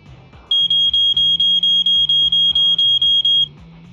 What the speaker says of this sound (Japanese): 本当に警報が来たぞ